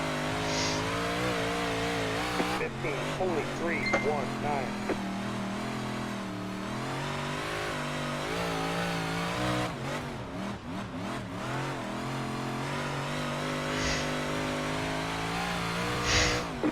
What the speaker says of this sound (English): I don't think these cars like full throttle,